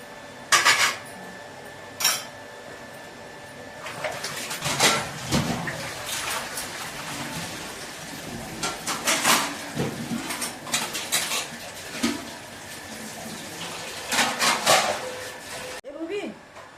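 Glasses and dishes being washed by hand in a home kitchen, with repeated clinks and clatters of cutlery and crockery and running water, while people talk nearby.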